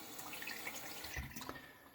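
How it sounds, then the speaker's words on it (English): Water trickles and drips onto a sharpening stone during honing, with a brief splash and small wet drips close by, no talking. "Just put a little bit of water, not much."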